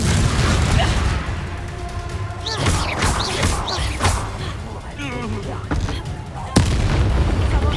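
Confringo fire-spell explosions in Hogwarts Legacy blast out as booming, crackling bursts across a busy battle, with one sharp impact standing out near the end over a dense, loud background of combat noise.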